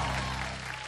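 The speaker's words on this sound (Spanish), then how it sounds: "Con el aplauso del público" Audience applause in the studio of the Chilean game show Vértigo, a brief, even spread of clapping heard at a moderate, steady level.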